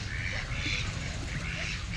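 Muscovy ducks quacking amid a noisy crowd of poultry, including geese, at a farm, with a steady low rumble of background noise throughout.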